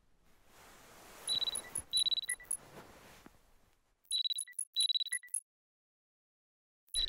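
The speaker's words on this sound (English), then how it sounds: "The alarm is ringing." Alarm ringing in the horror video game Parasocial: high, bright electronic beeping in two quick bursts of rapid chirps about three seconds apart, over faint background noise.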